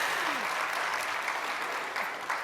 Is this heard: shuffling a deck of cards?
no